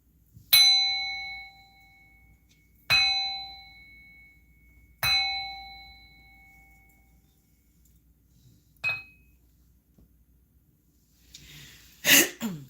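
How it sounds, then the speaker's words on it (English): A bell struck three times in even succession, each ring loud and near with a bright sustained tone that slowly decays, followed by a fainter fourth strike and then a brief rustling noise. "I'm going to bang this bell real quick to remove all negative entities from my home"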